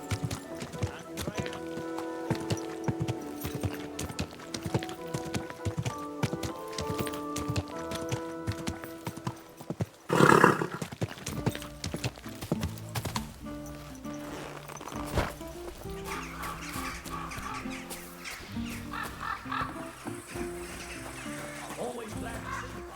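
Horse hooves clip-clop at a steady walking rhythm in the medieval game Kingdom Come Deliverance 2, with a brief louder burst midway. A voice and background music play over the hooves.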